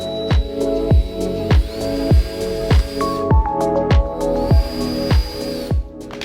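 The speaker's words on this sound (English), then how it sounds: "I'm gonna go with a little bit bigger drill bit now, create a bigger pilot hole." A power drill boring a pilot hole while working on a Mustang GT whirs steadily close by, with sharp clicks and knocks recurring roughly every second while the motor runs on.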